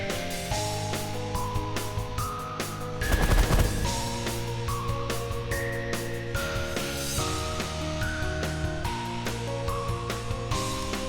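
Space warships trade fire in The Last Federation strategy game, a dense chatter of rapid gunfire and bursts that swell for a moment near the start, layered under steady droning music tones.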